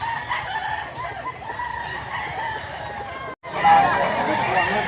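A blue-legged bullstag gamecock rooster crows loudly nearby among other farm clucking and crowing, the sound broken by a brief cut partway through before it resumes.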